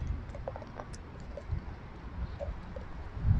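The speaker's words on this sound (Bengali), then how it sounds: "ঘুঘু পাখি।" Soft, faint dove or pigeon coos repeat a few times in a quiet forest near an airport lake, over a low steady outdoor rumble with no talking.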